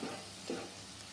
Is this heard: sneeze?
no